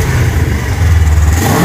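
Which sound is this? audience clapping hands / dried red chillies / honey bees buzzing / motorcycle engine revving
motorcycle engine revving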